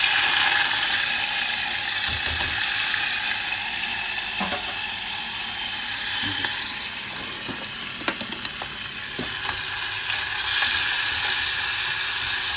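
Garlic fries in a pan as capers and olives are added. A loud, steady sizzle fills the whole stretch, with occasional sharp clicks and clatters near the pan.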